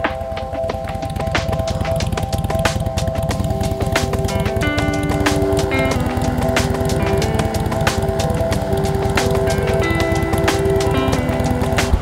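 A steady mechanical hum with rapid repetitive clicking and tonal whirring runs continuously and loudly, a small electric air pump inflating a tire without pause.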